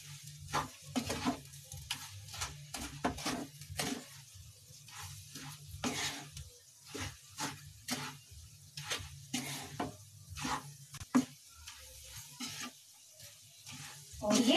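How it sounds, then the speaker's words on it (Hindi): Raw turmeric ladoo mixture being stirred in a pan, a series of irregular scraping and tapping strokes over a faint sizzle, fairly quiet and close. "और अच्छे से मिक्स कर लूंगी इसे मैं।"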